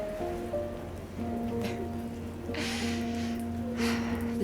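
Steady rain falling in Edinburgh, a soft, continuous hiss of drops on surfaces that holds at an even level throughout, with low tonal hum underneath and brief breathy bursts near the end.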